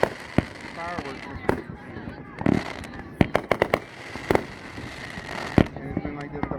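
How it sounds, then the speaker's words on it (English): A large fireworks display in Bunker Hill, West Virginia, with sharp bangs and crackling bursts going off in irregular succession, some loud and near, over a dense rumbling background while people talk. "We are now about 30 minutes into our fireworks."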